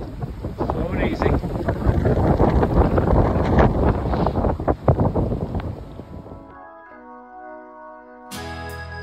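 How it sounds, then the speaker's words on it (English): Strong, gusty wind drifting snow on the Appalachian Trail roars and buffets the microphone loudly for several seconds, then gives way to quiet music. "So windy that the snow is drifting."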